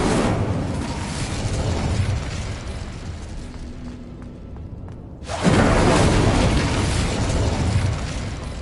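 Incendio fire spell from Hogwarts Legacy: a loud, dense roaring blast that fills the clip, dips into a quieter lull, then bursts back up hard and sustains to the end.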